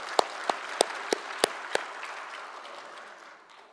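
Church congregation applause encouraging Deacon Lee Dong-gyu after a scripture reading: six sharp, evenly spaced claps ring out up close, then a softer wash of scattered clapping fades away.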